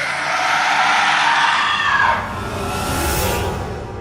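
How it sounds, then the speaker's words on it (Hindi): A loud, drawn-out, eerie scream sound effect that shifts partway through into a deeper, rough roaring tone, filling the whole moment. "वो बहुत डरावनी आवाज में चिल्लाता है।"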